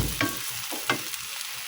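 Food sizzles in a hot pan while a spatula stirs it in two or three quick, scraping strokes close by.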